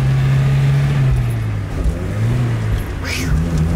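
A Chevrolet Chevette engine pulls hard in third gear, a loud steady drone with a rising pitch that fills the cabin, and a passenger's voice comes in briefly near the end.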